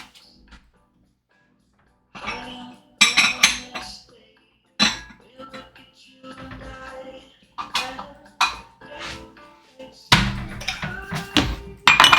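Carnitas and food being spooned into ceramic ramekins, with irregular clinks, scrapes and knocks of utensils on the dishes arriving in close bursts separated by quiet gaps.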